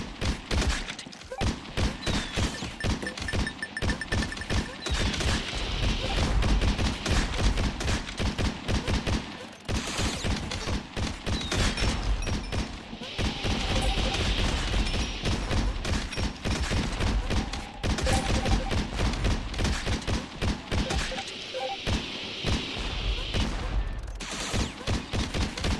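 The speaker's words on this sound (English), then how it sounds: "At least the spread gun is the best weapon to use here due to the high number of enemies." Rapid, continuous spread gun fire in the video game Operation Hardcore, dense bursts of shots and thuds against many enemies, loud and nearly unbroken throughout with brief pauses.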